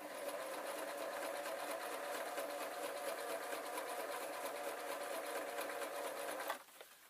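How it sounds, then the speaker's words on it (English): A sewing machine runs continuously, stitching leatherette boot pieces together with a fast, even mechanical chatter, loud and close, then stops abruptly near the end. "I am now going to join these two together, easing them round, and all I'm doing now is I'm sewing to the centre."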